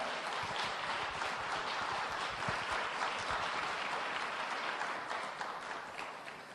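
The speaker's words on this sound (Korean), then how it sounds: "다시 한번 박수 부탁드립니다" An audience at an alumni concert applauds after a performance, a steady broad roar of many hands clapping that stays even, then gradually thins and fades toward the end.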